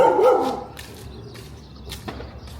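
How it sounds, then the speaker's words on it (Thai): A dog barks at a house on a village tour in Thailand: a cluster of sharp, fairly close barks in the first half-second, then only faint background noise. "บ้านนี้หมาเห่าดิ"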